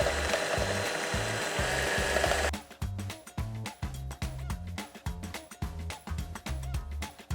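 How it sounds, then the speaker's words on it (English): Electric hand mixer whipping cream in a measuring cup, a steady close motor whir with a rapid pulsing rattle of the beaters against the cup, loud throughout and with no talk. "And I will take my hand mixer,"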